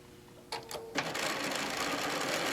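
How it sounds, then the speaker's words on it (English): Sewing machine running steadily after a few short starts, stitching the seam of a pincushion up to a notch, close and fairly loud with no talking. "we're going to sew until basically we get right to the bottom of that notch"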